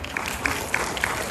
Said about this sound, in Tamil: மறுபடியும் ஒரு கைத்தட்டல் கொடுங்க.